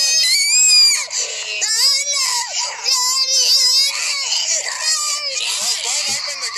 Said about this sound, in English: listen to this child screaming